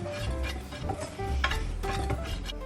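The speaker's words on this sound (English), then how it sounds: "Then I have my cinnamon, baking powder, and salt, which I already had together, and I'm just gonna whisk this all together" Flour, cinnamon, baking powder and salt whisked together in a bowl for Christmas baking, a steady scraping and tapping of the whisk repeating up close with no talking.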